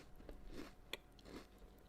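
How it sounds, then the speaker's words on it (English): Quiet crunching of cookies being chewed, from a visual novel game, a few soft bites spaced across under two seconds with one sharper crunch in the middle. "those loud crunches weren't of teeth hitting bone, but of someone loudly chewing on those cookies"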